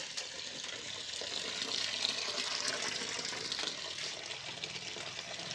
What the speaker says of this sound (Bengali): বালতিটা ভর্তি হচ্ছে